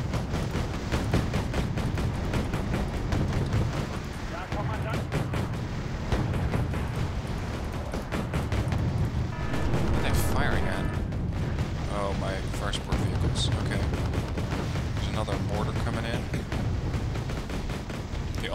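Vehicle cannon fire in the Wargame Red Dragon strategy game, a continuous stream of rapid, rumbling shots with booming impacts over a dense battle soundscape, steady and loud throughout.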